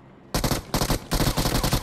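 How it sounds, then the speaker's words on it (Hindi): Bursts of automatic gunfire in the battle royale game BGMI, three rapid volleys close and loud after a brief quiet moment. "तो मैंने पॉल को बोला फायर कर"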